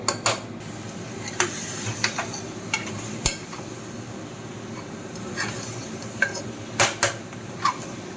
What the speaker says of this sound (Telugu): ఇప్పుడు మటన్ వేసుకోవాలండి.